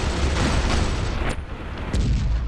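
Loud, dense rumbling explosions and gunfire from an Ork assault war video game, continuous heavy blasts with sharper bursts piling on top.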